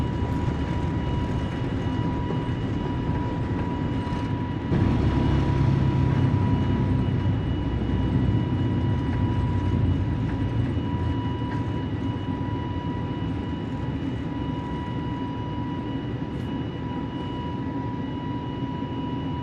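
Jet engines of an Airbus A320neo roar through takeoff in Microsoft Flight Simulator, a loud broadband rush with a steady high whine, swelling slightly a few seconds in and holding continuous throughout.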